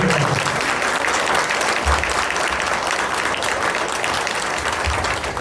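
An audience at a children's festival skit performance claps in sustained, dense applause, loud and close, holding steady for several seconds without a break.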